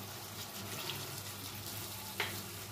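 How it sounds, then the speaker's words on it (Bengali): Water pours into a pot of aloo potol curry cooked with fish head, a continuous close hiss and gurgle at an even level, with one brief clink near the end. "আর একটু জল আমি অ্যাড করব"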